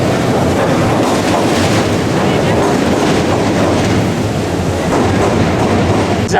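A steady, loud rumble of an L train rolling over Chicago's double-decker Lake Street Bridge, heard from a river boat, with rhythmic rattling and clatter throughout and some wind buffeting.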